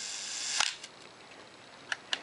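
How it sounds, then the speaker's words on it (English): A vintage camera shutter fires at its slow one-second speed: a sharp mechanical click and a softer follow-up, then another pair of crisp clicks, close and quiet. "The shutter works well on all the speeds. Even at the very slow 1 second,"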